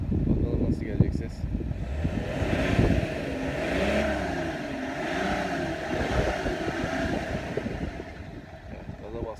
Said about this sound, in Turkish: O yüzden şöyle bir gaza basalım hafiften. Bakalım nasıl gelecek ses.